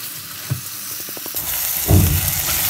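Rice stir-fried in a hot pan with wilted onion and pepper, a steady loud sizzle with scraping stirs and a brief swell of frying as the rice is tossed.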